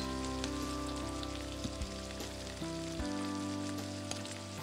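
Spinach-filled puri frying in hot oil, a dense, steady crackling sizzle close by and fairly quiet, with a faint hum underneath and no talking.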